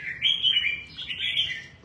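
Pet birds in a home aviary chirp and tweet in a steady run of bright, high calls, close and fairly loud, with no voices.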